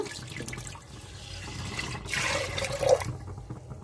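Water runs and splashes steadily into a pot of boiling thick milk, rising to a fuller gush before cutting off.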